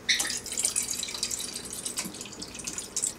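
Four cups of vegetable broth poured from a 32-ounce container into a rice cooker holding quinoa, a steady liquid splashing and trickling close by for about three seconds, with no talking.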